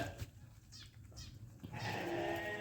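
Sheep bleat a few times, rough and fairly close, over a noisy outdoor background with some rustling, on a snowy winter farm in western Ukraine.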